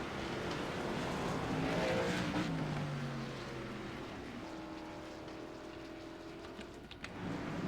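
Race cars in a racing video game at Circuito de Navarra: a fairly faint engine whine sweeps down in pitch as a car passes, then settles into a steadier distant drone. No voices are heard.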